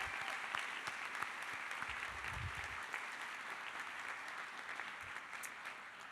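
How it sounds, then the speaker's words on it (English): Audience applause at a 2013 baccalaureate ceremony, a steady wash of clapping from a large crowd that holds evenly for several seconds, heard from a distance in a big hall. "give them a round of applause for arranging this event today"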